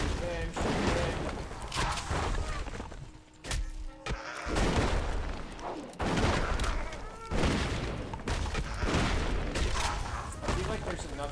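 Rapid video game gunfire from a World of Warcraft session, dense and loud volleys of shots and thuds running almost without pause, with a voice talking over the action.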